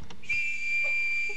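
A rake whistle on a cruise ship gives one long, steady, piercing tone after a brief chirp. It comes close and loud and holds for over a second.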